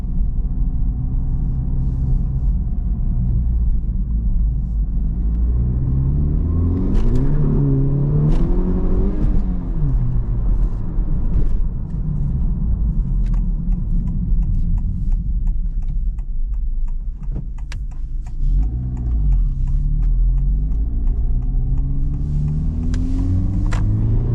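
Turbocharged Honda Civic Type R FL5 engine on a road drive, a steady close rumble with swelling revs and faint ticking through the cabin, no talk.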